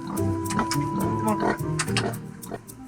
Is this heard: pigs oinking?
yes